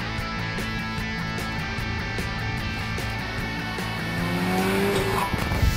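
A car drives with a continuous engine hum. Near the end, a tire squeal rises in pitch, and the engine and tires grow slightly louder. No one speaks.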